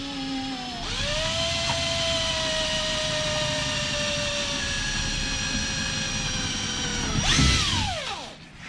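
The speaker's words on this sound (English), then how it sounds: "if you'll drill those out on both sides" Close, loud power drill boring holes through a tonneau cover on an off-road trailer build. The motor spins up to a high, steady whine, holds for several seconds, then revs briefly and winds down.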